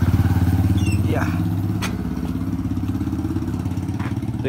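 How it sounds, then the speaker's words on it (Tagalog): A motorcycle engine idles nearby with a steady, throbbing pulse throughout, holding a low rumble with slight variations and a few faint background clatters. "Ito yung gamit niyang motor, oh."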